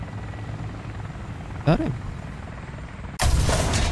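Helicopter in the tank-combat game War Thunder, a steady rotor drone under battle noise, with a brief whooshing sweep and then a loud, sudden blast near the end as someone says a word.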